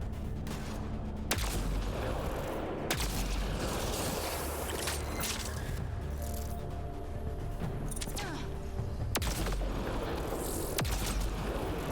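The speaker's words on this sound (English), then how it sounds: "Explosive sniper to the rescue." Explosive sniper rifle shots and blasts in Mass Effect: Andromeda arrive as a few sharp cracks amid a steady rumble of combat, with dense noise sustained throughout.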